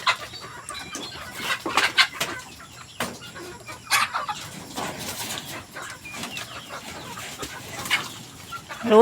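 Chickens cluck and squawk on and off near a vegetable garden, with sharp bursts at irregular intervals over a faint background, fairly close, with no talking.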